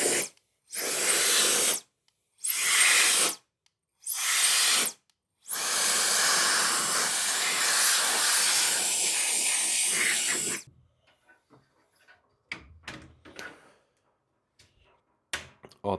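Loud, steady hissing blasts of air from an electric air duster cleaning a PC, three short bursts followed by a longer continuous blow, then quiet with faint clicks and handling noises.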